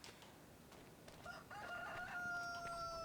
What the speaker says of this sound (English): I have 811 chickens in here.